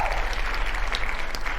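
Applause during a low-level Age of Empires tournament cast: a short burst of steady clapping, fairly close and loud, with a little crowd murmur.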